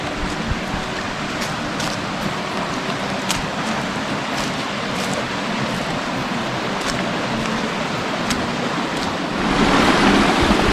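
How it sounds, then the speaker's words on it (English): Water pouring over limestone rocks into the Suwannee River beside a campsite, a steady close rushing wash that swells louder near the end. "The water flowing down along the limestone rocks right into the river."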